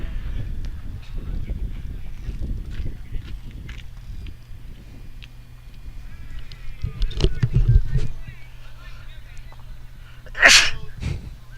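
A single sharp sneeze bursts out near the end, loud and brief, while people chat quietly at a bowling match broadcast by the ocean.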